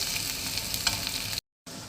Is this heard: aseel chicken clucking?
no